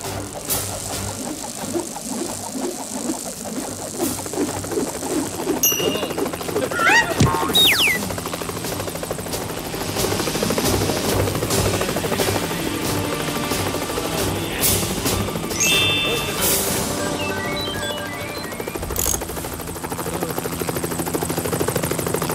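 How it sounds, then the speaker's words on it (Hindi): A cartoon helicopter, broken and patched back together, flies with a steady loud rotor chop throughout. Music and sound effects play over it, and there are whooshing sweeps and brief zaps. "देखो मिस्टर चमको ने अपने टूटे फूटे हेलीकॉप्टर को जोड़ तोड़ के उड़ने वाला बना ही लिया।"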